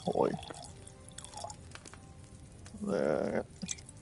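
In the game Kingdom Come Deliverance 2, liquid is poured from a vial during alchemy, a short trickle and splash followed by a louder pouring burst, faint and close, between quiet sounds.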